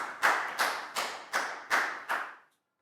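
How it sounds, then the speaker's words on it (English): Six distinct, evenly spaced hand claps in a classroom during a primary health lesson, each a sharp close slap with a short decay, followed by a moment of quiet. "a big round of applause for Prel"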